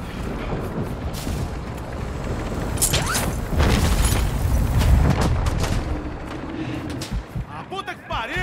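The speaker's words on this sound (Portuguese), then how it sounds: "Eu tô tomando tiro" Gunfire and heavy booming blasts from the Call of Duty video game, dense and loud, with voices speaking over the chaotic battle noise.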